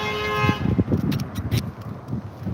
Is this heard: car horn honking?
yes